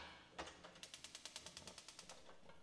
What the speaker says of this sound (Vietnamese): mình sẽ bật lửa lên và chưng nha